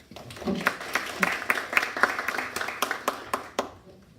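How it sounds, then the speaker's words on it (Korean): An audience at a formal event applauds to welcome a government official to the podium, a moderate burst of scattered, crisp hand claps that fades out at the end. "박수 환영해 주시기 바랍니다."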